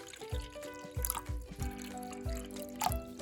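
Water trickles and splashes into a pot in several short pours, bringing the water for boiling Bulramen carbonara noodles to the full amount, close and fairly clear over a faint background.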